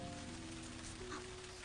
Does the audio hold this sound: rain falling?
yes